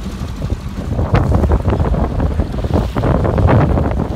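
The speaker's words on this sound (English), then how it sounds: "Definitely windy today, very choppy, so maybe a little hazardous today," Strong wind buffeting the microphone on a 1966 boat on the Detroit River, with choppy waves slapping the hull in a loud, constant roar and no talking.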